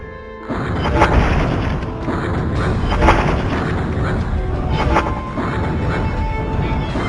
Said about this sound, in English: You can ignite objects from a distance with Swampfire's fireballs.